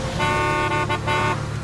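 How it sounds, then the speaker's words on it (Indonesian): A car horn honks in the horror video game Nightmare Side, a sustained electronic toot with brief breaks, loud and close over a low engine hum. "Aku klakson,"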